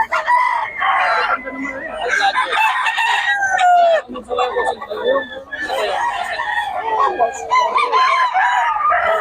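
Roosters crow repeatedly at a poultry gathering in Bocaue, loud and close, with clucking between the calls and people talking nearby.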